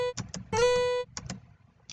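Twangy sampled guitar notes from a DSK guitar plugin played at full velocity, each plucked note bending up like a hammer-on with a country flavour: a few short bright plucks, one longer sustained note, then two more quick plucks, alone.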